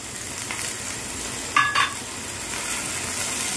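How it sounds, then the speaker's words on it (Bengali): Soaked spice paste of ginger, cumin, coriander, chili and turmeric sautéing in oil with a little water, a steady close sizzle with a couple of brief scraping stirs in the middle. "আর মশলাটাকে আমি ভালো করে কষিয়ে নেব।"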